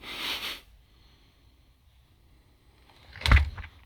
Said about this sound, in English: We just close these huge doors here.